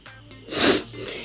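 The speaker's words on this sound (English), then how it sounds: "Sniffing." A single short, sharp sniff through the nose, breathy and close, between quieter stretches of near silence.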